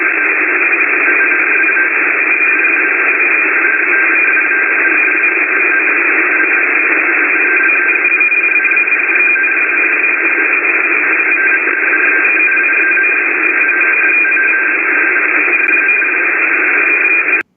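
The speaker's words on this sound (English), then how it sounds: "this data stream is very rare to hear, and it typically only happens when something is brewing" A rare radio data stream transmission plays as a steady, loud band of buzzing digital noise with faint constant tones, unbroken and without voices for its full length.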